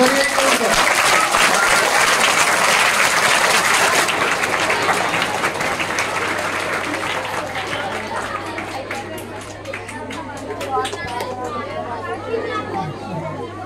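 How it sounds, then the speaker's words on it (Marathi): Loud applause from a school audience greets the honouring of the event's chair, the clapping steady at first and then thinning and fading over the second half as chatter and children's voices rise. "जोरदार टाळ्या वाजवा"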